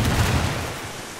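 A frag grenade goes off in Ghost Recon Wildlands, a loud broadband blast whose roar fades slowly over about a second with no talk over it.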